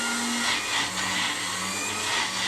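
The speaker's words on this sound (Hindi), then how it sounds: "अब ग्राइंड होती जा रही है।" An electric mixer grinder runs steadily on mint chutney, its motor droning loud and close with slight surges as the blades churn the paste.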